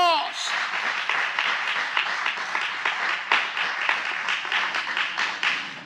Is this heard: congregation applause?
yes